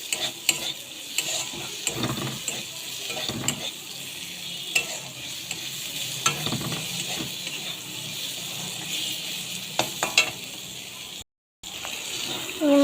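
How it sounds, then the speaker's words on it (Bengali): Pointed gourd (potol) frying in a pan with salt and turmeric powder gives a steady close sizzle, broken by intermittent stirring scrapes and clinks. The sound drops out briefly near the end. "পটলটা ভাজা হচ্ছে।"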